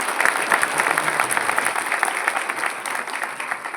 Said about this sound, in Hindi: एक बार जोरदार तालियां भाई।